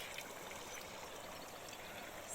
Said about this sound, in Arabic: هاد الماء هذا بحال الماس تماما، يعني فيه مياه غازيه